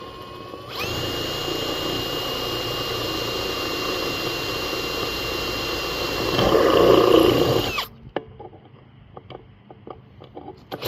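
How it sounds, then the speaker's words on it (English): A power drill whines steadily for several seconds while drilling out a hole in rail, rises briefly in strain, then cuts off, leaving quieter clatter and background noise. "Drill this hole out more."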